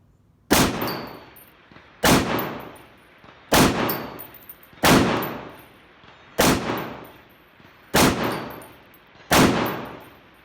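An SCAR-17s rifle fires seven loud, sharp shots at a steady pace roughly one and a half seconds apart, each with a ringing metallic clang from a hit target and a decaying echo, no talk.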